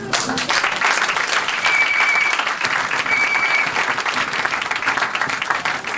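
A church congregation applauding to acclaim the Lord during a sermon, loud dense clapping that holds steady throughout.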